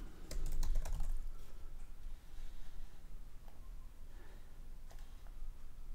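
Typing a short command into a computer terminal: a quick burst of close keyboard clicks at the start, then scattered sparse key taps.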